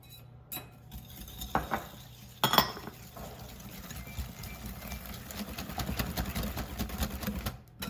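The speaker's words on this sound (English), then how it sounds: "I'm gonna add in the sugars and give this a nice whisk" Eggs and sugar whisked in a bowl for mini pecan pies, a steady clatter of the whisk scraping and clinking against the bowl, close and continuous with a few louder knocks.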